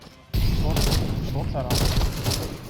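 Rapid bursts of gunfire from the video game Counter-Strike 2, loud and dense and sustained almost throughout with brief breaks between volleys.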